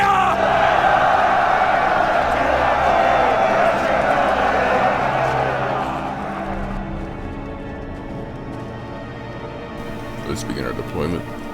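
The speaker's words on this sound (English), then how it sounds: "Now cheer and affright them! Cheer!" Massed army troops cheering in the medieval battle game Medieval II: Total War, a loud sustained roar of many voices that gradually fades out, followed by quieter game sounds.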